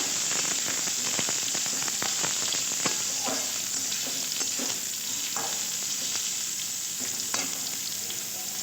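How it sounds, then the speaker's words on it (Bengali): Cucumber and potato pieces fry in oil for a poppy-seed style dish, a loud continuous sizzle with sharp scraping clicks from stirring scattered throughout, near and without talk. "শসা এবং আলু দুটোই সুন্দরভাবে ভাজা হয়ে গেছে"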